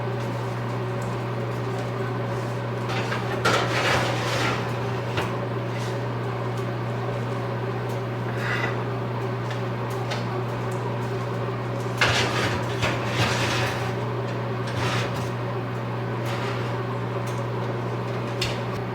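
Bones for bone broth go into a convection oven: steady fan and appliance hum throughout, with a few clattering bursts of pan, rack and door handling near and moderately loud, no talking.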